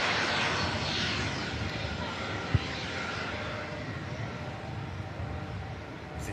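A Jet2 airliner from Girona roars steadily at an airport, a broad continuous engine rush at moderate distance that fades slightly toward the end, with one brief sharp tick midway and grass cutting going on across the airfield.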